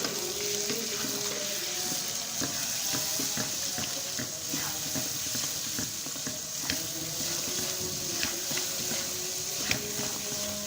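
Maash dal frying and being stirred in a pan on high flame, a steady sizzle with scraping strokes while a distant call to prayer drifts faintly in the background.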